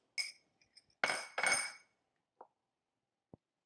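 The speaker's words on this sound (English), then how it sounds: "I'm going to put my muddled blackberries here in the bottom of my Rock Donald glass." Muddled blackberries being spooned into a rocks glass for a Hocus Pocus–themed Halloween drink, with a few sharp glass clinks and scraping knocks, then two small isolated taps, close and fairly quiet, no talking.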